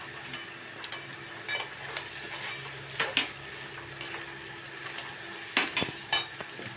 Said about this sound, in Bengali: এবার আমি কড়াটা এবারে নাড়তে হবে, এগুলো দিয়ে ভালো করে মিশিয়ে নিতে হবে।